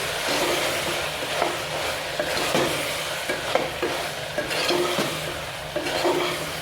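Tindora and potato curry stirred in a pan, a steady sizzle with irregular scraping and knocking of a spoon against the pan, close and fairly loud.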